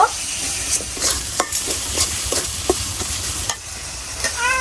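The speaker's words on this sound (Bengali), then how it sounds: "এখন এটা ভালো করে কষাই নিব মশলার উপর দিয়ে যখন তেল বের হবে" Spice masala stirred and sautéing in hot oil for a homemade chicken biryani made with country chicken, giving a steady close sizzle with repeated scrapes and taps of a spoon against the pan, no talking.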